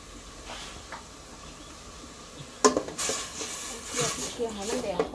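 Coconut milk and red curry paste heat in a pot for a Thai khanom jeen curry with chicken feet, giving a soft sizzle and hiss with clinks of a utensil against the pot while someone talks.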